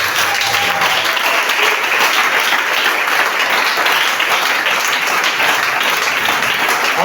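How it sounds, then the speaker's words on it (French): A church congregation applauds to acclaim the Amen with loud, dense, continuous clapping that fills the room evenly and stays at a steady level without a break. "Acclamez fort l'Amen."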